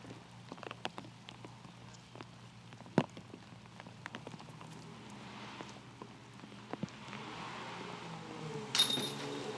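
Steady rain falls during a women's professional disc golf round at the Jonesboro Open, a soft continuous patter on surfaces with scattered sharp drips and clinks, no talk.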